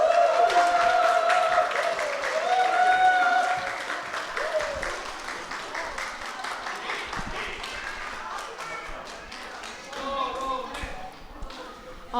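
A church congregation at a Christmas service in Phnom Penh applauds to welcome two missionaries, a clapping crowd that gradually thins, with a voice speaking over it and warbling tones in the background.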